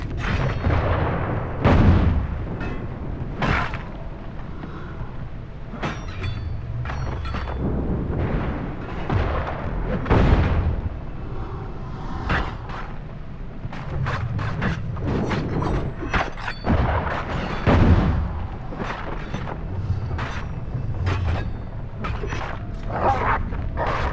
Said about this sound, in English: They're shooting at the crew!